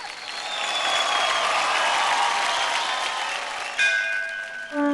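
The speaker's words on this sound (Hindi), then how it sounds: "जोरदार तालियां हो जाए अनुदिता के लिए" Studio audience applause for a young dancer on an Indian dance competition show, a sustained, loud wash of clapping and light cheering, with music tones entering near the end.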